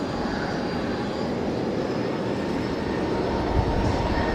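The last Boeing 717 built, a jet airliner rolling for departure at Brisbane Airport, gives off a steady, loud engine roar with a broad hiss, constant across the whole span.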